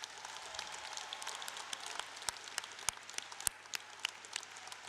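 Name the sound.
commencement audience applause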